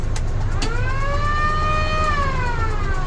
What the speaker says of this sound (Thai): มีหวอด้วย